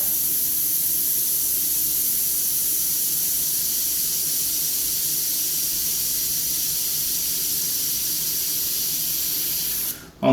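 An airbrush spraying white paint for a tiny highlight on a model rivet head gives a steady, even hiss of air and paint that runs close and unbroken before cutting off abruptly at the end, with no speech.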